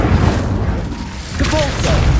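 The Incendio fire spell cast in Hogwarts Legacy on PS5: a loud, dense, rumbling blast of flame and impact that fills the whole moment without a break.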